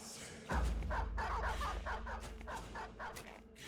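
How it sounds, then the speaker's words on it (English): Several dogs in the video game Battle Brothers bark in a quick, uneven run of sharp yelps over about three seconds, fairly close, with a low rumble underneath. "Lots of dogs."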